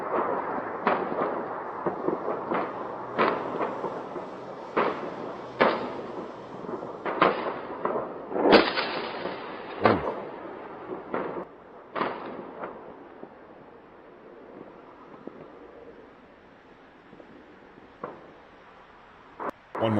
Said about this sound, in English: These are Israeli interceptors versus Hezbollah rockets.